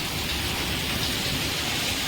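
Heavy monsoon rain pours down steadily outside a house, drenching a parked car, a dense, unbroken hiss that fills the whole stretch at constant loudness with no voices.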